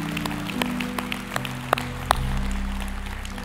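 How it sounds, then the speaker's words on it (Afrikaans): Inside a church, the congregation starts clapping, with scattered, uneven hand claps rising over sustained keyboard or organ tones. "kom ons gee hulle 'n lekker hande klap"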